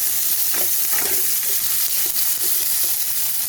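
Raw pumpkin pieces fry in hot oil in a wok with a dried red chilli and a bay leaf, a steady close sizzle with repeated scraping stir strokes and no talking.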